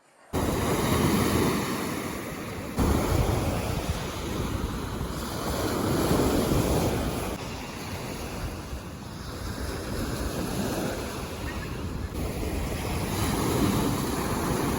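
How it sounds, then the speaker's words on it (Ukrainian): Stormy sea waves roll onto a washed-out beach, a continuous heavy roar of surf with surges every few seconds, mixed with strong wind buffeting the microphone, no voices. "Сьогодні море трошки штормить, і ось так тут сильно вимило берег."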